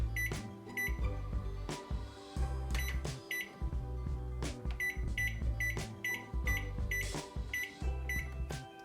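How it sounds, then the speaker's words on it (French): A microwave oven is set and started for cooking rice, giving a run of sharp keypad beeps over a steady low hum, close and clear with no talk. "Je ferme le bol et je mets au micro-ondes."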